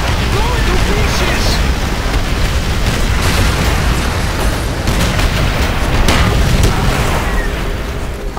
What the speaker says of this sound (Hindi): पता नहीं कहां से किधर से बम पड़ रहा है।